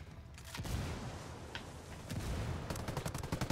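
Repeated gunfire in Ghost Recon Wildlands, bursts of shots cracking close and loud from about half a second onward, with a denser volley toward the end and no talking.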